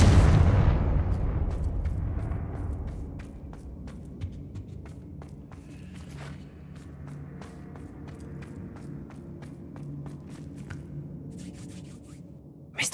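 Confringo blasting spell in Hogwarts Legacy bursts with a loud boom at the start, then trails into a long fading rumble scattered with sharp crackles and clicks of falling debris.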